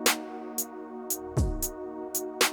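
A sustained, buzzy synthesizer bass tone with amp-like grit plays under a steady beat of crisp hi-hat ticks and one deep kick.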